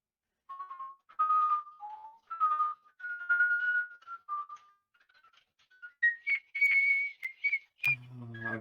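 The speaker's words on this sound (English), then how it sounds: "Okay, so stop whistling." A person whistles a melodic tune alone, a run of clear sustained notes with short pauses that climbs higher toward the end, followed by a brief low rumble.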